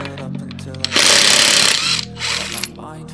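A pneumatic impact wrench unscrews car wheel nuts during a tyre change, a loud rattling burst of about a second followed by a shorter second burst, with quieter garage sounds around it.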